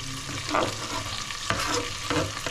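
Onions fry and brown in a pan with a steady, close sizzle, broken by a few louder scrapes and stirs that come every second or so.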